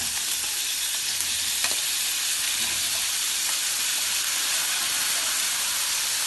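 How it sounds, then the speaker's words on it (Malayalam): Half-cooked broccoli and mushrooms sauté in olive oil in a pan, giving a loud, steady, close sizzling hiss with a few faint stirring knocks and no talking. "അതിലേക്ക് ഈ പകുതി വേവിച്ച് വെച്ച ബ്രോക്കോളിയും മഷ്റൂമും ഇടാം. എണ്ണ ചൂടാതൊന്നും വേണ്ട, എണ്ണ ഒഴിച്ച ഉടനെ തന്നെ ഇടാം."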